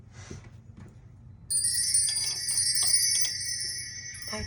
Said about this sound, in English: Cue the chime.